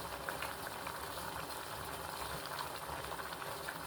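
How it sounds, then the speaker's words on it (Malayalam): Tomatoes, green and dried red chilies, and garlic boil in a pot of water. The close, continuous bubbling and rumbling holds steady with no speech. "രണ്ട് തക്കാളി, കുറച്ച് മുളക്, വറ്റൽമുളക്, പിന്നെ 4 വെളുത്തുള്ളി. ഇത് തിളച്ചിട്ട് നമുക്ക് മിക്സിയിൽ അടിച്ചെടുക്കാം."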